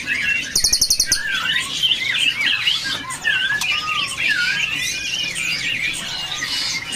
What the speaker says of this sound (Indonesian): Di sini ada burung cililin coklat.